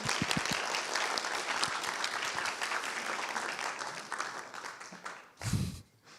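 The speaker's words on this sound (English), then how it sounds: "can we get a round of applause for our fantastic panelists?" A conference audience applauds panelists at a decentralised science event, steady full clapping for several seconds before tapering off, ending with a brief thump.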